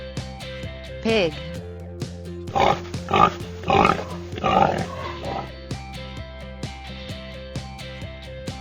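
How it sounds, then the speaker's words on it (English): Several pig grunts and oinks come in short bursts over a looping background melody. "pig"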